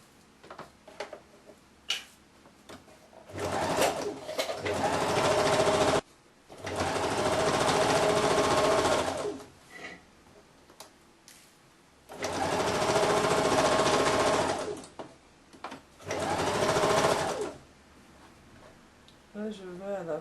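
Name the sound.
sewing machine stitching a shirt hem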